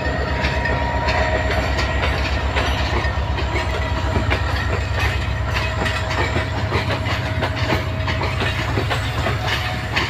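The Kurigram Express bound for Dhaka rolls past loud and close, a continuous heavy rumble with steady rhythmic clickety-clack of wheels over rail joints and a faint hiss throughout.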